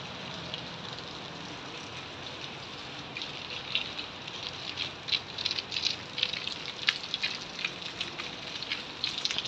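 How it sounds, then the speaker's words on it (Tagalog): Light rain patters and rattles steadily on surfaces in the UAE, with scattered sharper drips growing busier toward the end, heard alone at moderate level. "Hindi na masyadong malakas yung ulan."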